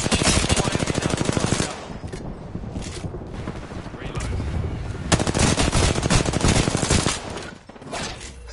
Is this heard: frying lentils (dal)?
no